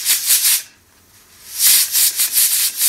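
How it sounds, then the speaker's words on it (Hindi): A pressure cooker full of mutton curry on a gas stove vents steam in rapid, pulsing hisses that fade out briefly, then return loud and close. "ये लास्ट सीटी के बाद हम गैस को बंद करेंगे।"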